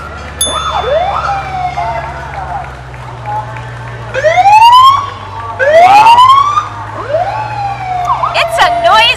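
A fire engine siren at a street parade, the 2011 Eugene Celebration, wails loud and near in repeated rising and falling sweeps, with other siren tones overlapping and faint talk in the background.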